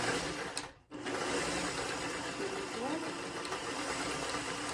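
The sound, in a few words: sewing machine stitching fabric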